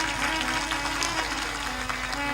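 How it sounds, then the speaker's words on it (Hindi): An audience at a religious discourse applauds the chief guest in dense, steady clapping that fills the whole stretch without pause. "ताली बजाकर उनका अभिनंदन कर।"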